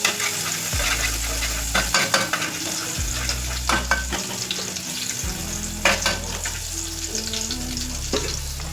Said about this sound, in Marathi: तेल टाकलं, थोडंसं तापू द्यायचं. मग आपल्याला टाकायचं आहे लसूण.